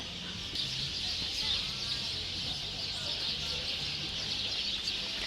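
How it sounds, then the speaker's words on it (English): A large flock of birds chatters and chirps in the trees by the Cala Bona marina in Mallorca, a dense, continuous, high twittering wash heard from a short distance. "the dominating sound that we have over here is of the birds in the trees"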